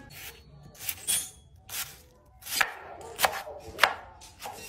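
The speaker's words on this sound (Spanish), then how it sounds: "Necesitamos una cebolla. Picamos en figuras cuadriculinas" A knife chops an onion into cubes on a cutting board, giving about eight sharp, uneven strikes, some close together and some spaced apart, close up and with no talking.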